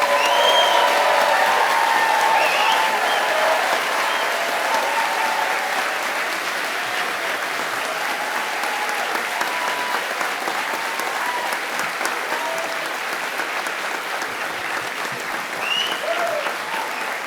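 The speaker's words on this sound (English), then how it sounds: "I want you to truly applaud our graduates for their achievements." A graduation ceremony audience applauds the graduates in a steady, dense wash of clapping that lasts throughout, full and even with no voices over it.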